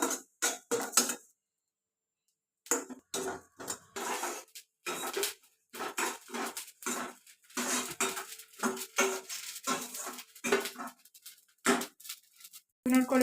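Two spoons of cumin seeds dry-roast in a pan while a spoon scrapes and knocks against the metal in quick bursts separated by short silences, close and fairly loud.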